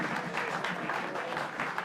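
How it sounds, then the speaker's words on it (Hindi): A small audience applauds at a steady pace, with dense, even clapping under a faint murmur of voices, fairly distant and moderate in volume. "Big round of applause."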